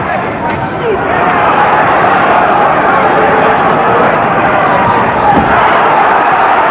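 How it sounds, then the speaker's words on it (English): Boxing arena crowd at a Bonecrusher Smith versus Frank Bruno bout, a dense, loud roar of many voices that holds steady and close throughout, with no single voice standing out. "No contact, although the crowd reacted."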